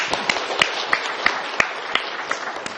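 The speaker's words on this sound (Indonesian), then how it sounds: "boleh tepuk tangannya semuanya" Thin applause at a Ramadan talk-show gathering, a handful of sharp, fairly regular claps over a faint room hiss, heard alone without talk.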